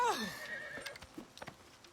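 A horse whinnies loudly in a video game, the descending neigh opening the clip, followed by a few scattered hoof clip-clops and faint thumps.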